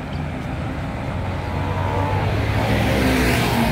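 Steady, loud engine and road roar from a motorbike riding along a road, continuous for several seconds and building slightly toward the end.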